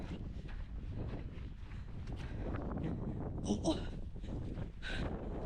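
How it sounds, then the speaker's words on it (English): Gusty wind buffets the microphone outdoors on a site where ducting is being laid with a digging bucket, a steady broadband rumble under brief talk. "Wind is so bad too."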